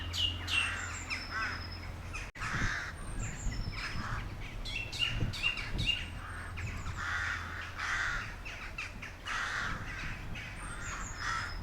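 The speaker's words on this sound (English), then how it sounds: "As we walk up through the trees, you can hear the bird life." Crows caw repeatedly among chirping birds in Lake District woodland near Ullswater, calls overlapping near and far over a soft outdoor background.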